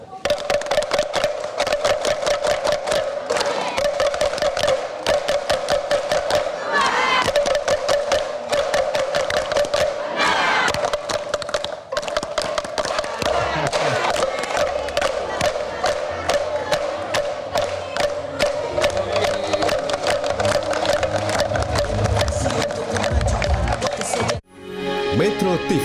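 Large crowd at a political gathering beating bamboo kentungan slit drums and clapping, a continuous clattering mass of sharp wooden knocks and hand claps with a steady ringing tone underneath, cheering rising now and then, before ending abruptly.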